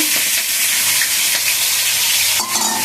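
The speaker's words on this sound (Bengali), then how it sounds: "এবার আমি চিংড়ি মাছটাকে একটু বেজে নেব" Shrimp fry in hot oil in a pan with a loud, steady, close sizzle that stays constant throughout, broken by a few faint stirring clicks, with no voices.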